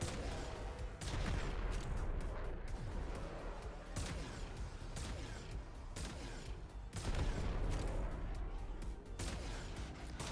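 Sustained automatic gunfire in Warframe, aimed at a shielded enemy, hammers on for the full stretch as a dense, continuous rattle with rhythmic bursts and impact crashes, loud and up close.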